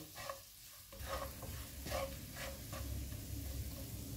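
Ground coriander, cumin, red chilli powder and salt fry in a pan for spicy Lebanese garlic potatoes, a soft steady sizzle with scraping stirs, close and fairly quiet.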